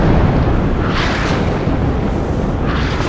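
Air strike explosions in the war game WARNO: a continuous loud, dense rumbling roar with broad noisy bursts swelling around one second and again near the end, no voices.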